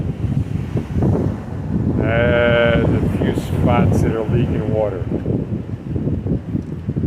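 Stormy wind at a beach campsite in Sicily buffets a tent and the microphone with a constant low rumble, under a person talking nearby.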